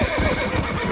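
A horse in the Red Dead Redemption video game gives a loud, close whinny lasting about a second, with hoof clip-clops mixed in beside a ranch barn.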